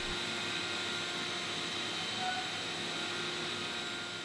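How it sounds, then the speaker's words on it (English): Vacuum cleaner running over a refinished fir floor, a steady loud whine and whoosh with a constant tonal hum, heard alone without talk. "The last step of prep was to go over everything really well with the vacuum."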